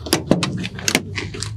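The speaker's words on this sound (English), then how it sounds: "We'll come around to the side and open this door up." Door of a 1977 Ford F350 Ranger truck with a brown interior swinging open, a few close, sharp clunks and latch rattles in quick succession over a low background hum.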